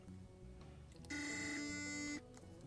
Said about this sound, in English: But it is vibrating.